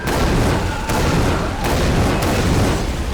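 Loud, close shotgun blasts in a first-person shooter game, several booming shots fired in quick succession with dense, roaring echoes between them.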